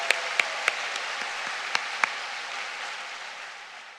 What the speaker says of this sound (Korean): 격려의 박수 한번 쳐드리겠습니다